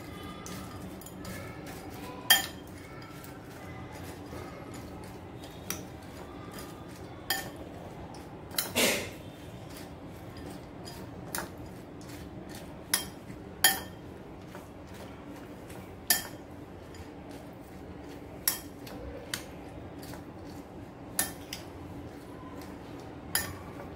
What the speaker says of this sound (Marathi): आता आपल्याला हे सर्व चांगलंसं मिक्स करून घ्यायचं आहे।